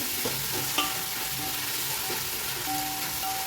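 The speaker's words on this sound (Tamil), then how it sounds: "நல்லா மிக்ஸ் பண்ணிக்கோங்க, இல்லைனா அடி பிடிச்சிரும் அலுமினிய பாத்திரனால" Sautéed onions with coriander and mint are stirred in an aluminium pot for chicken biryani, with a continuous loud sizzle and soft scraping spoon strokes repeating throughout, close and without voices.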